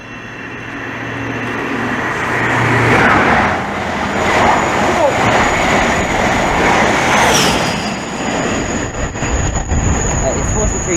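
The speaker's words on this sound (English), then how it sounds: "we'll catch it as it comes through. So this is a HST" An HST high-speed train passing through Harlington station, a loud sustained rumble and rush of wheels and engine close by, swelling and fading over several seconds with a brief squeal, while people talk over it.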